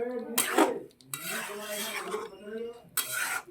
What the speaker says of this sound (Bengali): যে ফোড়ন দিয়েছি সেই তেলটার সঙ্গে মাংসটাকে আবারও নেড়ে চেড়ে মিশিয়ে নিচ্ছি